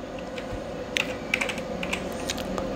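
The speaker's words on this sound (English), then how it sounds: "Now you have to type a network key for this." Steady, close typing on a computer keyboard as a Wi-Fi network key is entered, with quick irregular key clicks over a low background hum and no talking.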